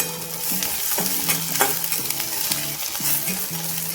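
Onion and green chili sautéing in a pan for a kurvad bhaji, a continuous close sizzle with brisk stirring scrapes, while a faint melodic tone sounds in the background.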